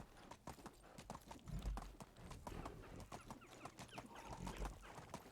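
Horse hooves clip-clopping steadily as the animal is ridden through the medieval world of the video game Medieval Dynasty, a fairly quiet, even trot rhythm with faint ambient farm sounds behind.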